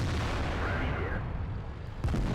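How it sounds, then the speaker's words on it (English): The IS-8 tank gun fires in World of Tanks, a heavy booming shot with a rumbling tail that fills the whole short moment, loud and close, with a second thump at the end. "So I'll put another shot into him."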